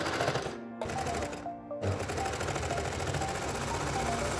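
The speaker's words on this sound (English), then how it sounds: "We then overlock the inner seam using my Baby Lock Victory Serger." A Baby Lock Victory serger overlocks the inner seam of swim trunks with loud, close, rapid mechanical chatter, cut by two brief pauses before running steadily to the end.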